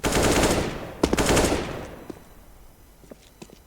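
Automatic gunfire in CS:GO, a competitive shooter game, on an old Russian community server deathmatch: long sustained bursts of rapid shots up front, then scattered single cracks and short volleys fading into the background.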